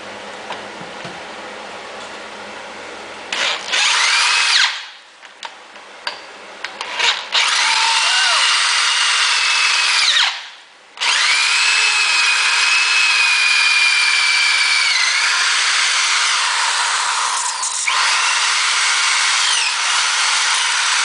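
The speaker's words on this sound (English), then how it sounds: "So I'm going to see how this drill bit works." A power drill whines steadily at high pitch while boring through metal of a car rear end brake upgrade, with two brief pauses where the motor stops before grinding on again.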